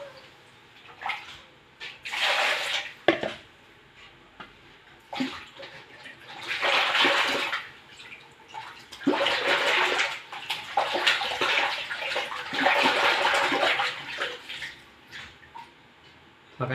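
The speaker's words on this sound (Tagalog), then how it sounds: "Hugasan pa natin. Dalawang bisis. Para matanggal yung mga dugo-dugo." Milkfish washed under running water, with splashing and pouring that comes in several long surges and pauses, close and fairly loud, with brief clatters between.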